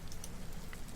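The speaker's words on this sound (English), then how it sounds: "I'll go back on rain sounds." Steady rain falling on a surface, a soft continuous hiss with faint scattered drop ticks, quiet and even throughout with no voices.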